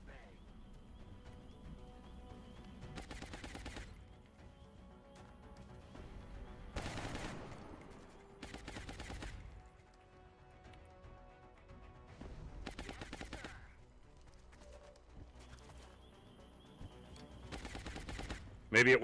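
Gunfire in the XCOM Long War strategy game comes in several separate broadband bursts spread across the stretch, each a short volley over steady background game music and ambience.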